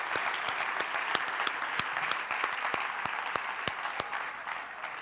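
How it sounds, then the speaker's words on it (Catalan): A crowd applauds steadily at a sports awards festival in Alcarràs, dense continuous clapping with a few sharper individual claps standing out, fairly close and sustained throughout with no talk over it. "per tots ells demano un molt fort aplaudiment"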